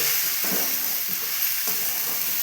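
Dalia khichdi fries in a pot on a low flame, a constant close sizzling hiss with three distinct scraping stir strokes spaced across the moment, no talking.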